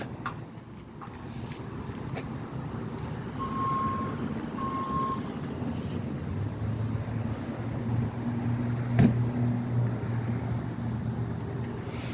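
A tow truck's reversing alarm beeps in a steady repeating pattern while the truck hooks up a pickup blocking a street, with low engine rumble and outdoor wind underneath and no talking.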